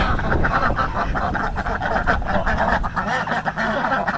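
A flock of ducks quacks loudly and steadily in a muddy yard, with overlapping honks and calls forming a dense, close chorus with no pause.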